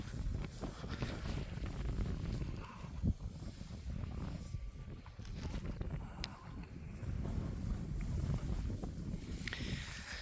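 Wind blows hard and continuously on a clear winter day where horses are fed hay, buffeting the microphone in fluctuating gusts with a low, rough roar throughout; no one speaks.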